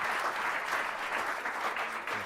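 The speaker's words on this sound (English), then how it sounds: "So can I just do a round of applause for everyone who's graduated" An audience applauds graduates at an awards ceremony with steady, dense clapping from a crowd, sustained at an even level throughout.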